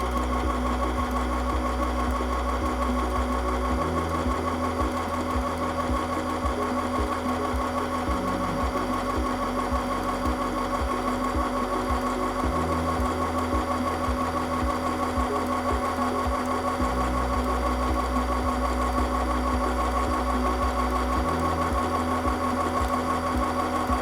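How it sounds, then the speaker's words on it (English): An M1000 sewing machine stitches fabric in repeated bursts, its motor whirring up and running steadily through several stretches of rapid, even needle chatter, heard close and without talking. "lower the presser foot lifter, and step on the foot control to start sewing"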